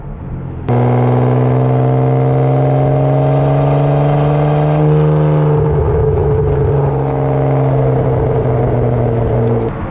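A 2008 Ferrari 612 Scaglietti V12 on a test drive pulls hard with a loud, steady engine drone rising in pitch, then eases off to a lower, rougher hum as it cruises on.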